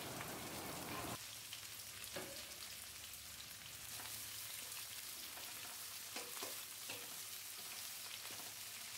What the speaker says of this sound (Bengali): তো পেঁয়াজগুলো দিয়ে একটু হালকা ভেজে নেব।